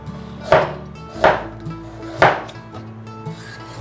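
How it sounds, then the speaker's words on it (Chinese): A knife slicing through peeled jicama on a cutting board, three sharp close chops spaced about a second apart, followed by fainter taps. "把豆薯切片"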